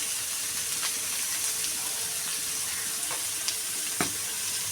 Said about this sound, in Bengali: ক্যাপসিকামগুলোকে একটু ভালো করে এখন নেড়ে চেড়ে ভেজে নেবে।